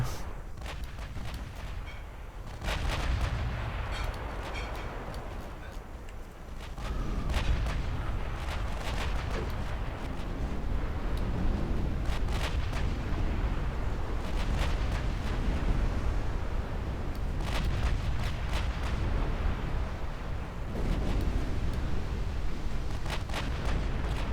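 A naval fleet's guns fire at full rate without pause in a US campaign of a strategy video game. Booming artillery reports overlap into a steady, rumbling barrage, with sharper shots cracking out now and then.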